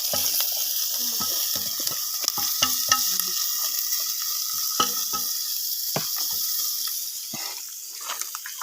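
Ginger and chili sautéing in a pan, a steady sizzle of frying with scattered scraping and clinking stirring strokes throughout, close and alone.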